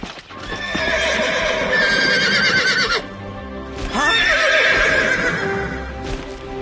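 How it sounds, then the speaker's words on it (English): Pegasus, the winged horse, whinnies loudly twice in long wavering neighs separated by a short pause, with faint hoof clatter underneath. "That's Pegasus, the winged horse of the gods."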